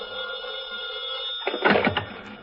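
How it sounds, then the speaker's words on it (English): A telephone bell in a radio drama set in a detective's office, starting with a steady electric ring and then breaking into a louder, rattling burst of rings near the end. "The telephone is ringing, and as Mike reaches for the receiver"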